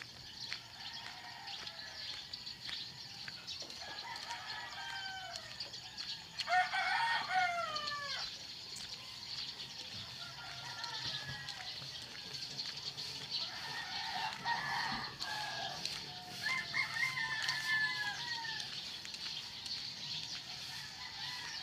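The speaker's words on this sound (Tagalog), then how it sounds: "maririnig mo yung mga manok, ibon" Roosters crow repeatedly among clucking chickens and chirping birds in the early morning near the sea, set against a steady outdoor background with no one speaking.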